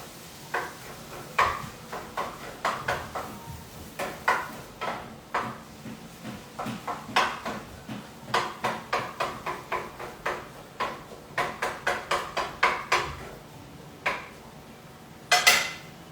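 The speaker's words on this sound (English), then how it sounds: "we have to break up the ground beef over here, so I'm just gonna do that now" Spatula scraping and tapping ground beef in a pan, a run of sharp irregular clacks and scrapes at close range, repeating in quick bursts with short pauses, no talking.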